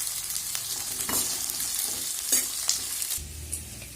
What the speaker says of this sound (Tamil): வெங்காயம், கருவேப்பிலை இதெல்லாம் போட்டு வதக்கி விட்டுக்கலாங்க